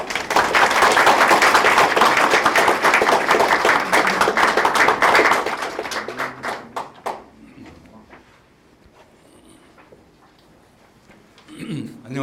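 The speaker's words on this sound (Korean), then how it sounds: "큰 박수를 보내주시기 바랍니다" Audience applause at a university president's inauguration ceremony in Seoul, loud and dense for about six seconds, then thinning to scattered claps and near silence before a voice briefly rises at the end.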